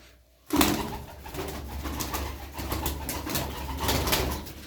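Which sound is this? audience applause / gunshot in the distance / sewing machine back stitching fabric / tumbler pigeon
tumbler pigeon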